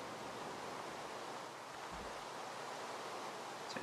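Minecraft player swimming and bobbing across open water, a steady broadband wash of splashing water noise at low level with no voices.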